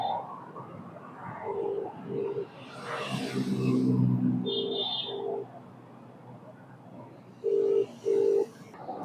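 A telephone call ringing on the line, heard as paired electronic ring tones repeating at a steady pace, with room noise and a brief chirp between the rings.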